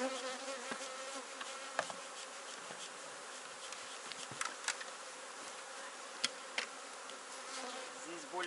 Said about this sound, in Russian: Пчелы более-менее спокойные, не так они взлетают.